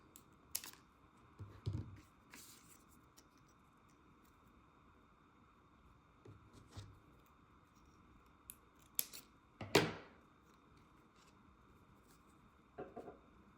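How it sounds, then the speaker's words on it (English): Scissors cutting paper strips for card decorating: scattered crisp snips and slicing swishes at irregular intervals, close and clear over a quiet background hum, one louder cut standing out. "Just gonna cut them with my scissors."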